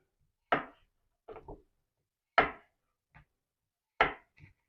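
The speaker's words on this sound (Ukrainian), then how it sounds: "Ріжу картоплю." A knife chops potatoes on a cutting board for a solyanka: sharp, separate cuts come in small clusters with clear pauses between them, close and fairly quiet.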